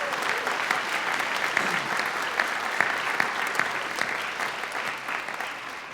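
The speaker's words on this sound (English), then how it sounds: "let's give them a round of applause" Sustained applause from a graduation ceremony audience in an indoor hall, dense clapping that holds steady and tapers slightly toward the end.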